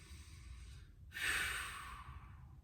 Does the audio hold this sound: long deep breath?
yes